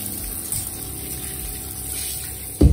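A mobile phone rinsed under lukewarm running water, a steady close rushing flow that holds evenly throughout, then swells louder in a brief surge at the very end.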